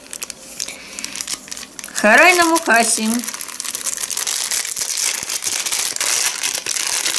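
A tea packet crinkles and rustles in continuous plastic crackling as it is handled, with someone speaking Russian over it in a short phrase partway through.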